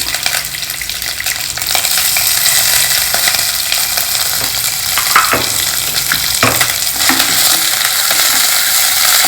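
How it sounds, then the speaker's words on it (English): Groundnuts, curry leaves and ginger green chili paste fry in hot oil, giving a steady, loud, close sizzle that swells slightly as the pan is stirred. "And lightly fry this ingredient."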